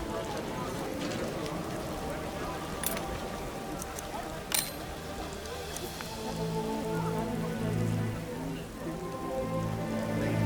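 Heavy downpour in the video game The Witcher, steady close rain pattering on surfaces with a couple of sharp splashing hits, continuous and moderately loud under occasional game voices.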